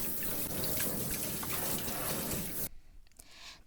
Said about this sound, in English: But first we need to really wash our hands